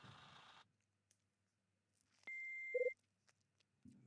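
A short synthetic answering machine beep in the video game Last Window: Secret of Cape West sounds in a quiet room: a steady high tone followed by a brief lower buzzing burst, preceded and followed by soft noises.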